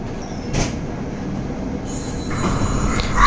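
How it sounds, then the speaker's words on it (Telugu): The Howrah–Chennai Express rolls into Rajahmundry station, a steady rumble of rail wheels with high metallic squeals and brake screech building louder toward the end, no talking. "సో ప్రస్తుతం అయితే హౌరా చెన్నై ఎక్స్ప్రెస్ అయితే వస్తుంది ఫ్రెండ్స్"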